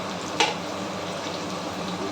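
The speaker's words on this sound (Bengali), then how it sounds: "টুকরো করে রাখা আলুগুলো এবারে তেলের মধ্যে হালকাভাবে নাড়াচাড়া করে সোনালি বর্ণ না আসা পর্যন্ত অপেক্ষা করব" Potato pieces frying in hot oil and stirred gently, a steady close sizzle with one sharp utensil click near the start.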